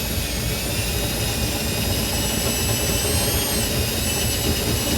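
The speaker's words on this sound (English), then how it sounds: "We'll take our 1/2 inch drill bit and open our holes from the top side." A 1/2 inch drill bit opens holes from the top side during a B and W underbed gooseneck trailer hitch install on a 2018 Chevrolet, giving a steady, loud, continuous whirring roar with high whine for the full stretch and no talking.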